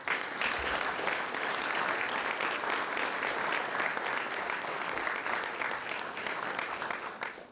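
A dinner audience at the Boyertown Area Progress Dinner applauds to welcome the superintendent of the Boyertown Area School District, with dense, steady clapping that fills the room for several seconds before tapering slightly, and no talking.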